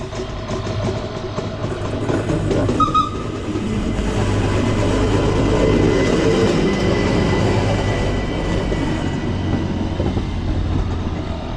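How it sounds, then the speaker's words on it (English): A cogwheel train on a Swiss alpine line rumbles along the track with a steady mechanical drone and rolling rattle, fairly close and continuous, with a brief squeal near the start. "this is the Cogwheel Train"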